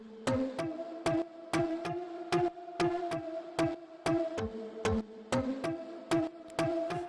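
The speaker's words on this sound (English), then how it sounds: "It's sidechaining to the kick, so it sounds like this." Electronic music lead sidechained to a kick drum, with punchy kicks on a steady beat and the lead ducking and swelling back between each hit, fairly quiet.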